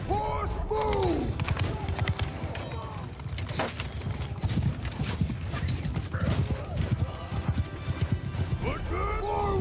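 Hooves clip-clop and thud steadily as horses gallop across a video game battlefield, with horse whinnies rising over the din and shouted commands and crowd noise mixed in.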